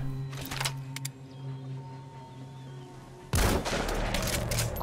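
Loud bursts of gunfire in Metal Gear Solid V: The Phantom Pain: a short volley early, then a sustained heavy barrage of shots filling the last second and a half.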